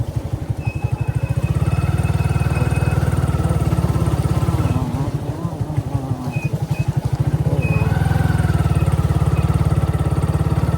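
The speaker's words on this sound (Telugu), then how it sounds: "మన new vehicle new or one five ఉంది కదా అదైతే తీసుకుని అయితే రైడ్ చేస్తాము" A new Yamaha R15 motorcycle ridden out to farm fields, its engine droning loud and close with a steady buzzing pulse, easing slightly midway before rising again to full throttle.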